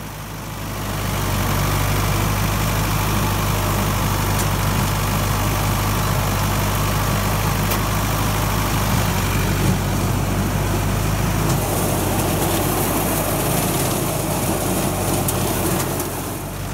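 A Ford 6610 tractor working soil in an alfalfa hay field holds a steady, loud diesel drone with a deep, constant low rumble. It runs unbroken and close, with no voices.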